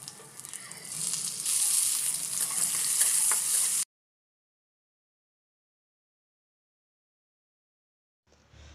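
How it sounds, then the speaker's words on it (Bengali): Loud sizzle of cashews and raisins frying in ghee, with some stirring for a few seconds, then it cuts to silence, with a brief faint sound at the very end. "কাজু ও কিশমিশটা একটু হালকা ঘিয়ের মধ্যে ভেজে নেব"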